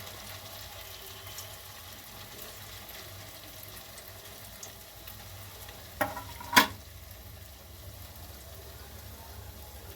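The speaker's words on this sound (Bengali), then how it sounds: "আমি দু ব্যাচে ভাজবো" Langcha frying in hot oil on a very low gas flame, a faint, even bubbling hiss with two brief sharp clicks partway through.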